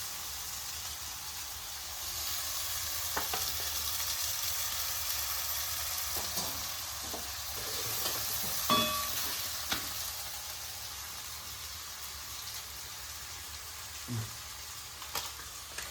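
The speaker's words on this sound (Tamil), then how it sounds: "நூடுல்ஸ் எடுத்து நல்லா மிக்ஸ் பண்ணிக்கலாம்" Noodles stirred and mixed in a hot frying pan with soy sauce and vegetables, a steady frying sizzle with occasional clinks and scrapes of the utensil, close and continuous without talk.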